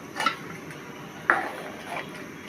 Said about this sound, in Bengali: ঢাকনা দিয়ে দিলাম।